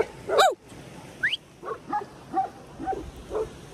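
Shepherd dogs bark at a she-bear with two cubs in a mountain setting: one sharp nearby yelp, then a string of about six shorter barks, spaced evenly and somewhat distant, over faint outdoor background.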